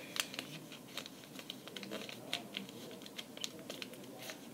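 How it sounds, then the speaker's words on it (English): A long strip of Starburst candy wrapper is folded in half by hand, producing soft, close crinkling and papery clicks in an irregular patter with no voices. "Now, I'm going to fold this long strip in half."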